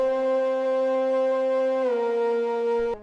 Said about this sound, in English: two high layers that are playing just the top note with some portamento to make them slide between